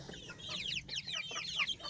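Backyard chickens and a red rooster cluck and chirp, with repeated short, high, sweeping calls overlapping at close range over a steady low background hum.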